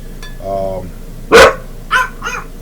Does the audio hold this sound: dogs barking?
yes